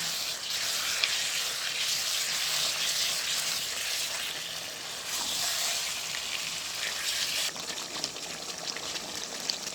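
Ground onion paste for white chicken korma fries in a pan with a steady, close bubbling sizzle and hiss, fairly even throughout with a slight dip near the end.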